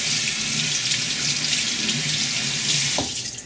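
Cabbage is rinsed under a running kitchen tap, a loud, steady splashing of water into the sink that cuts off abruptly near the end.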